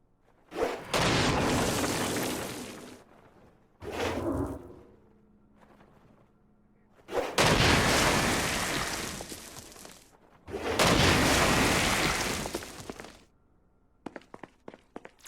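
Stone Blast power in the video game Saints Row: Gat out of Hell: heavy, booming blasts in separate bursts with pauses between them, each loud and rumbling, followed by a few sharp clicks at the end.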